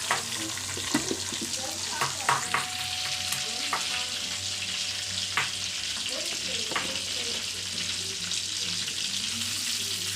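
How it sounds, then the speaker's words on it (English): Chicken pieces fry in a pan with a continuous crackling sizzle, broken by occasional sharper pops and a low steady hum underneath, close and fairly loud throughout. "we have 2 more pieces to fry"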